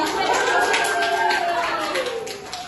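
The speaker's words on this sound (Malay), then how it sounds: "beri tepukan" Primary school pupils in a geography lesson clap together in a brisk burst of classroom applause, with voices sounding over the clapping.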